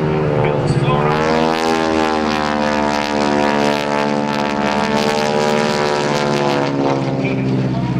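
A T-6 trainer propeller plane roars steadily at an airshow, its droning engine loud and close throughout with a rising and falling pitch as it passes overhead.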